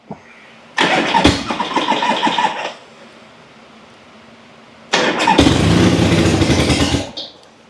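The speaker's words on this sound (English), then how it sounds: "I got my push start here. Let me turn my gas on." A motorcycle engine bursts into life on a push-start with the fuel turned on, sounding twice: a loud two-second burst of running engine, a pause, then a longer roar of a couple of seconds that cuts off sharply.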